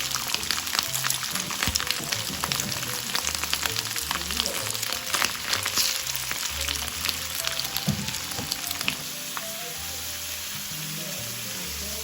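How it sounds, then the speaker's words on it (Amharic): Goat meat tibs frying in a hot pan, loud close sizzling with crackles and stirring scrapes for most of the stretch, easing to a softer steady hiss near the end. "አሁን መጥበሻችንን ጥደን እንጠብሳለን ጥብሳችንን"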